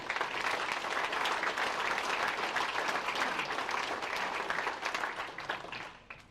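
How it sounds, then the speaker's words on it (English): Warm applause from a gathering at a team kickoff and farewell event, dense clapping from many people that holds strong for about five seconds before fading out toward the end. "just a round of applause for the Ridges"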